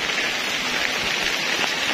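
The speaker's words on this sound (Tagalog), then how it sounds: "Kasi halos isang linggo na pong umuulan dito na hindi talaga po umiinit." Steady, dense rain pours down continuously during Typhoon Kristine in Camarines Sur, Bicol, a loud even hiss of drops on surfaces with no pauses and no voices.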